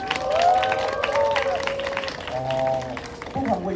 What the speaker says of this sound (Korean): 좋은 노래 들려주신 이제 본날 분들께 다시 한번 큰 박수와 함성 부탁드립니다